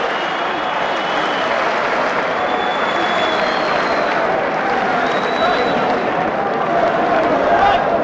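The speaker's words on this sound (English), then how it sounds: "I want everybody to give him a great round of applause" Loud, sustained applause from a large boxing crowd in Manchester, continuous throughout with cheering mixed in.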